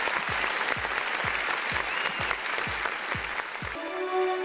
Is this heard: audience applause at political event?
yes